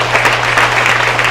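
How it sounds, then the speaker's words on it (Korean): A church congregation at Sunday worship applauding, a dense, loud, even burst of clapping close by, with a steady low hum underneath. "우리 큰 영광의 박수 한번 드리겠습니다"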